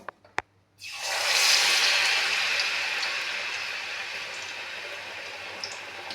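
Battered Malabar spinach leaf fritters drop into hot oil in a kadai, a couple of sharp clicks first, then a sudden loud surge of bubbling sizzle that settles into a steady, slowly easing fry, close by.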